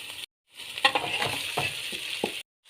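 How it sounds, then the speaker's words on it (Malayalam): Poha upma (avil upma) sautéing in a pan gives a sizzle broken by several sharp scraping strokes from a spoon. It starts and ends abruptly after brief silences, with no voices. "ഈ മഞ്ഞക്കുത്തൊന്ന് മാറി കിട്ടുന്നവരെ ഒന്ന് വഴറ്റിയെടുക്കുക"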